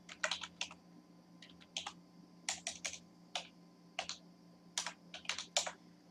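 A bank IFSC code being typed on a computer keyboard, with quiet close keystrokes in short irregular bursts and brief pauses between groups.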